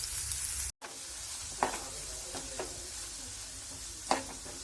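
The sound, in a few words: onion frying in oil, being stirred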